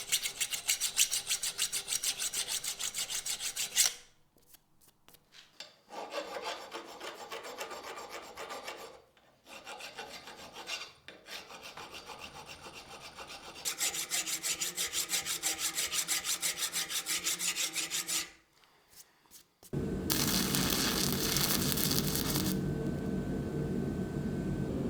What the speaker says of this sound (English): I use my trusty old files to try and true everything up to the best of my abilities.